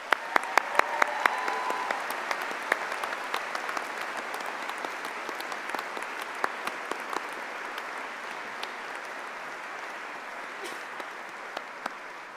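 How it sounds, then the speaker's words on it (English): A graduation ceremony crowd applauds at length, a dense continuous patter of many hands, stronger at the start and gradually thinning, with a few sharper nearby claps standing out. "join me in thanking them with another huge round of applause"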